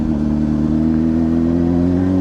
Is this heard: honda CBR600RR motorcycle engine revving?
yes